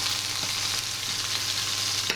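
Pork fillet fries in a pan with a loud, steady sizzle and crackle. A few faint clicks and stirring knocks sound over the constant hiss.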